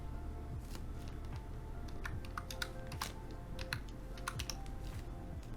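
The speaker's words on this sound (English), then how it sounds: "you have to type the title of the procurement in here" Rapid keystrokes on a computer keyboard while entering procurement details into a form, with irregular bursts of clicks over a steady low room hum and no one speaking.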